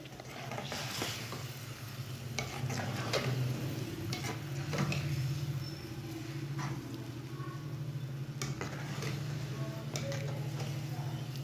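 A spoon scrapes and knocks against a pan as boiled potatoes and peas are stirred, with irregular clacks over a soft sizzle and low background hum.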